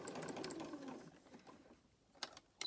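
Sewing machine running a steady stitching burr while sewing a rope and fabric coaster, fading into a quieter stretch before short bursts of stitching toward the end, with no voices.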